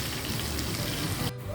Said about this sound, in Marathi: आणि हा तडका आपल्या तयार ढोकळ्यावर टाकायचा।